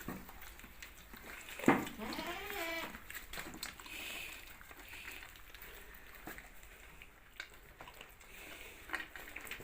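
A goat on a goat farm, penned and fed in winter, lets out one clear bleat early on, then faint animal shuffling and low background noise follow.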